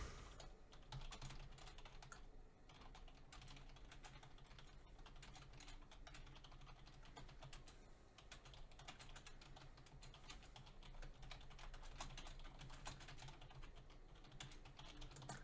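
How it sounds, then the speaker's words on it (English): Rapid, continuous typing on a computer keyboard, dense irregular key clicks at close range that barely let up, with no voices. "I just got caught up typing there"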